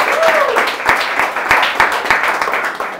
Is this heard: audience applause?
yes